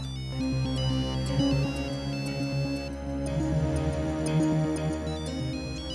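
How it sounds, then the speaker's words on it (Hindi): A melodic phone ringtone plays loudly and continuously, repeating its electronic tune with no voices. "वरुण, वरुण, ये भी कोई वक्त है फोन करने का?"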